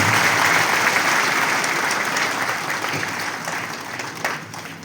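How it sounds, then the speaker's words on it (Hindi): Audience applause welcoming a guest speaker, founder of a Jharkhand human rights movement, at an annual deanery conference in Jashpur; dense, steady clapping from a large crowd that slowly thins over about five seconds. "इनके लिए जोरदार ताली बजाकर अभिनंदन कर उनका स्वागत करें।"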